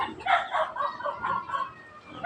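Backyard chickens clucking and crowing close by, a string of bursts and drawn-out calls over about two seconds, with no talking.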